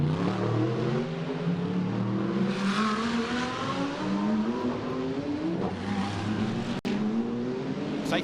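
GT race cars on the Macau street circuit during the 2023 FIA GT World Cup rev and roar past in a continuous loud stream, engine notes rising and falling as several cars accelerate close by, with no talk.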